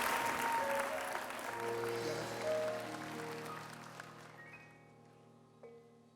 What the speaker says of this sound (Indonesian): Kita kasih tepuk tangan yang meriah untuk Mas Anies dan Pak Basuki.